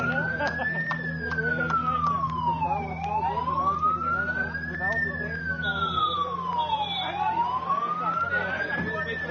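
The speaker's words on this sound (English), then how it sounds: "Hard to hear too much of conversation with that siren going off in the background" A wailing siren rises and falls in long sweeps at a Porsche Carrera Cup Asia race in Zhuhai, loud and continuous, with steady engine hum and faint voices underneath.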